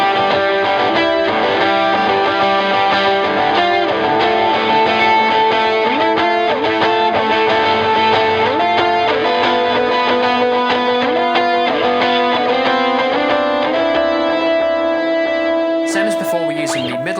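Aggressive distorted electric guitar build-up from a song, played on the middle pickup, with rapid repeating note patterns climbing steadily and loud, sustaining for over fifteen seconds before a brief noisy burst at the end.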